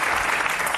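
An audience at a talk on gender violence and the justice system claps hands together in a dense, continuous burst of applause that lasts the whole short moment.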